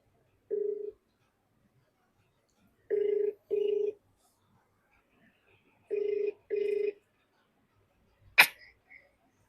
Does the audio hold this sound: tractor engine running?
no